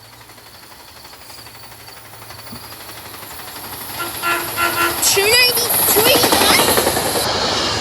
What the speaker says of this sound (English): More landfill train coming in.